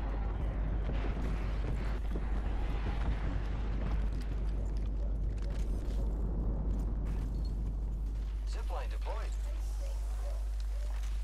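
Airstrike explosions in Apex Legends set off a run of heavy booms over a deep rumble that holds for most of the stretch, then fade into scattered impacts and game sounds at the end.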